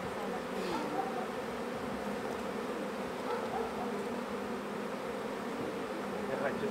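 Honeybees buzz around an open hive in a dense, continuous drone, steady and close, with faint voices talking under the swarm.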